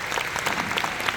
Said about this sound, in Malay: Bagi tepukan untuk mereka